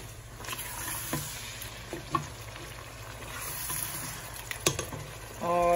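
Beef sautés with tomatoes in a pan for Bombay biryani, giving a low continuous sizzle. Occasional stirring clicks and scrapes sound over it, with a brief mechanical rattle near the end and no speech.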